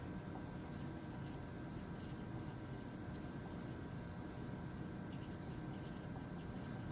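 Pencil scratching steadily across paper while sketching a rough three-view drawing of a mini barn, a soft continuous rubbing hiss with no talk.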